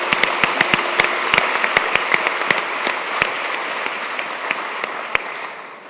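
Audience applause fills a conference hall after a welcome and opening address, a steady dense wash of clapping with a few sharper individual claps standing out, continuous and fairly loud throughout, no talking.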